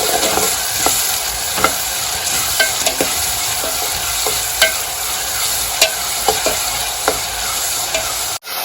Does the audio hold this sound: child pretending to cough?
no